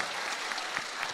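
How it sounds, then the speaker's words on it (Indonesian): Audience applause at an Indonesian event with costumed guests, a brief dense wash of many hands clapping, steady and moderately loud. "Kita berikan tepuk tangan untuk ketiga"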